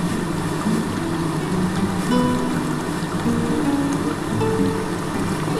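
Rohu fish curry with potatoes boils vigorously in a pot over a high gas flame, giving a steady, dense bubbling and hissing simmer that carries on evenly throughout at close range.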